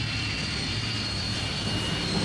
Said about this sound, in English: Slowly, the great aircraft rolled forward on the wheels of the pod.